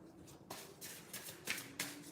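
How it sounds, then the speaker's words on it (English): A deck of cards being shuffled during a tarot-style reading, several quick riffling bursts in a row, close and fairly quiet, with no talk. "give it a shuffle for Cindy."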